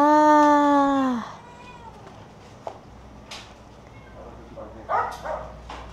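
A loud, drawn-out meow opens the scene at an animal shelter housing dozens of well-fed cats, then fades into quiet shuffling before a couple of softer cat cries near the end.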